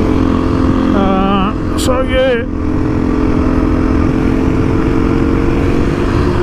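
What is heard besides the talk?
Beta 390 RR motorcycle engine running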